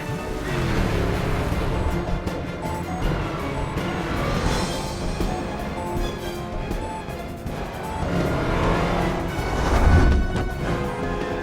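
A car smashed during a chase through a huge sandstorm sweeping a city in a Tom Cruise action film, heard as a dense, loud roar of wind and rumbling impacts, with a heavier crash near the end.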